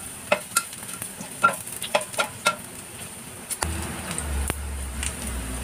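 Garlic sizzles in a hot pan for a pork and kidney bean adobo while a utensil taps and scrapes the pan in a run of sharp clicks, then the frying settles into a steadier hiss.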